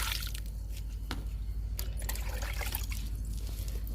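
Liquid fertilizer poured from a mug onto young okra plants in a vegetable garden, a steady close splashing, trickling stream that runs unbroken for several seconds.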